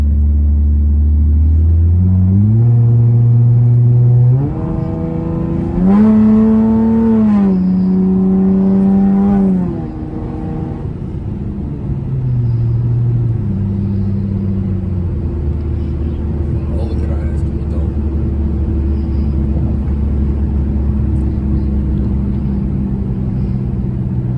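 A Chrysler 300 engine rumbles and revs up in several rising pulls, loud and close, then settles into a lower drone as it eases off.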